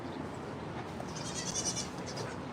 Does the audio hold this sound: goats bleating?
yes